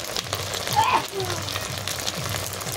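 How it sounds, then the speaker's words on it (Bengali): Ginger and garlic paste dropped into hot oil, a steady bright sizzle and crackle of frying that holds evenly throughout with a brief stirring scrape. "এবার আমি আদা বাটা, রসুন বাটা একসাথে বাটা ছিল, সেটা আমি তেলের মধ্যে দিয়ে দিলাম"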